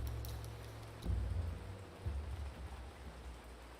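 Steady rain in the city-building game Ancient Cities, a constant wash of downpour with low rumbling swells, likely distant thunder, around the midpoint and later.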